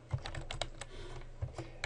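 Computer keyboard typing in bursts of separate key taps while sales figures go into a table in Word 2010, close and moderately quiet, with short pauses between clusters of keystrokes and no talking.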